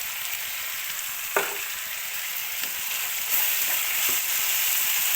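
Salted tomato fries in a pan for cabbage palya, a steady close sizzle with a few soft stirring scrapes and taps breaking through the hiss.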